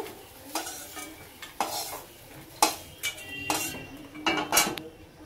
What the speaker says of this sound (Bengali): উচ্ছেগুলোকে কিন্তু ভালো করে ভেজে নেব